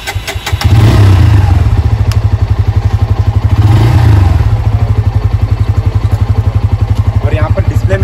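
A motorcycle starts with a thump and settles into a loud, close, steadily pulsing idle that carries on to the end, with voices heard briefly over the engine.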